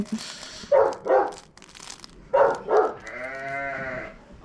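Several bleating calls from goats nearby, two short pairs of bleats followed by a longer wavering cry, with some rustling in between.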